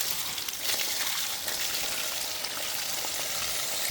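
Water gushing steadily from an off-grid water line at a tropical island homestead, a continuous broadband rush with a fine splashing texture, fairly close and even throughout, no voices.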